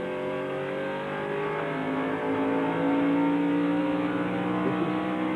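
Onboard NASCAR Busch Series race car engine at the 2000 Autolite Fram 250, a loud steady roar with rising pitch as the car accelerates down the backstretch, close and continuous with no talk.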